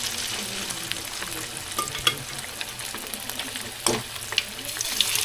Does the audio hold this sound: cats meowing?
no